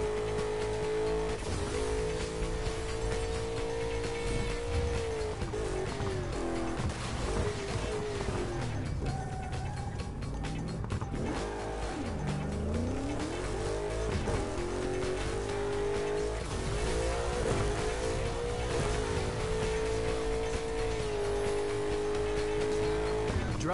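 Boosting car in Burnout Paradise Remastered, with a loud continuous engine roar whose pitch climbs and dips through gear changes, plus tire squeal and skidding, and no talk over it.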